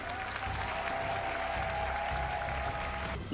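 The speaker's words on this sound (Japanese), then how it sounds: "生徒の大きな拍手と歓呼とともに登壇した" A church congregation gives sustained applause and cheering at a pastor's installation thanksgiving service, a steady wash of clapping from a large crowd that continues throughout, with a faint tone running beneath.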